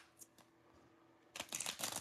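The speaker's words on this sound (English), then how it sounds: "we're gonna shuffle them up." Tarot cards shuffled by hand during a live reading: a faint tap or two, then a loud, close burst of riffling and flicking in the second half, with no talking.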